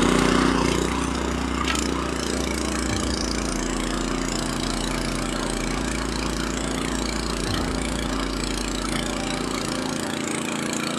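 Hortmasz rotary tiller, weighted with 40 kg, running while tilling fallow ground: a loud, close, steady small-engine drone with a low throb that shifts as the blades bite into the soil, alone throughout.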